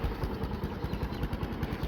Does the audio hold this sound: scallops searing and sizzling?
no